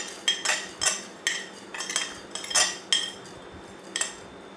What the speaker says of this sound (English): Okay, I'll transfer this to a mixer.